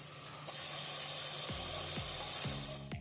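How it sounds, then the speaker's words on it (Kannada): Ground masala paste hits hot oil with fried onions for mutton gravy, giving a steady close sizzle and hiss that sets in abruptly and holds throughout, with a few faint scraping touches. "ಈಗ ನಾವು ಇದಕ್ಕೆ ರುಬ್ಕೊಂಡಿಟ್ಟಂತಹ ಮಸಾಲವನ್ನು ಸೇರಿಸ್ಕೊಳ್ಳುವ."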